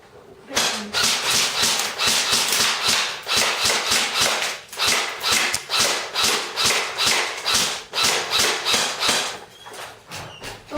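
A Black Ops M4 airsoft gun fires in semi-auto, a rapid string of sharp, evenly spaced snapping shots close up, about twenty in quick succession with short pauses between bursts.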